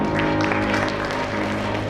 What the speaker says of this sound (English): can we have a little huge round of applause